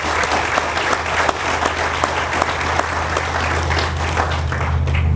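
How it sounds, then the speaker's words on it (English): A crowd at a highway interchange ribbon-cutting ceremony claps steadily and energetically, a dense continuous wash of applause with a low rumble underneath, sustained throughout. "I think we ought to give the county a round of applause"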